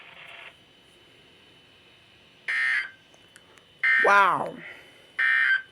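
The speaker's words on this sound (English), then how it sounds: "Receipt of the warning alarm tone will vary at any given location" Weekly weather radio warning alarm test plays as short, sharp electronic tone bursts repeated four times over a quiet hiss, with a brief spoken exclamation between them.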